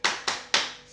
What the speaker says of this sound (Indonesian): Siap ya, tepuk semangat.